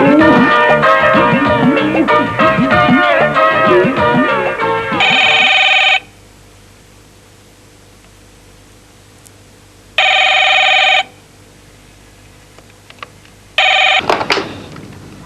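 A telephone rings in bursts during a late-night call, bright electronic trills repeating with pauses of near silence, following a stretch of music at the start.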